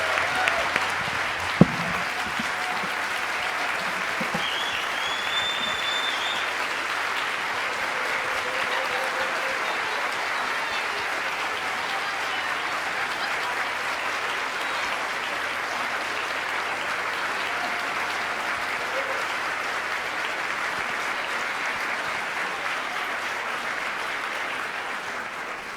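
Sustained applause from the audience at the APAP|NYC 2019 closing plenary in New York honouring Kristen Chenoweth, a dense, steady wash of clapping that runs unbroken for around twenty-five seconds.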